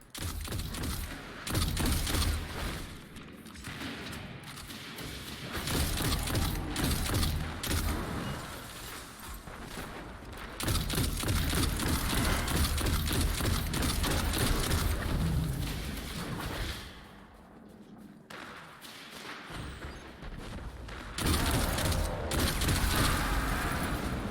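Grenade explosions and gunfire in the Destiny 2 video game, a near-continuous barrage of loud booms and bursts with a brief lull partway through, mixed with game sound and no talking.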